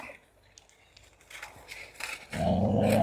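Dogs growl at one another while eating, low rumbling snarls building toward a louder, closer growl near the end, with a voice speaking over them.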